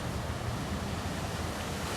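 Ocean waves breaking at North Shore, a dense continuous roar of surf mixed with wind buffeting the microphone, loud and steady for the whole stretch.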